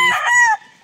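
A fighting rooster, a gamecock bred for the arena, gives one brief, loud crow close by, cut off sharply after a moment.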